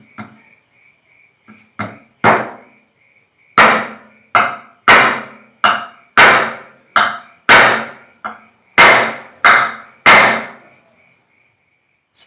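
Hammer driving a nail into wood in a school physics experiment, a series of about fifteen loud, sharp knocks, sparse at first and then falling into a quicker, steady rhythm.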